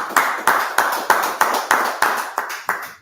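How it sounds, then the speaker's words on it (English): A congregation at a Sabbath service claps together in a steady, even rhythm, about nine sharp claps in a row, loud and close, with no talking over them. "All right, clap it up."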